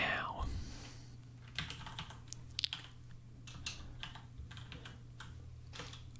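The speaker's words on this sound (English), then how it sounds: "it's because my microphone is in front of my keyboard" Close keyboard typing in a word-puzzle game session, with a dense run of quick key clicks over a steady low hum.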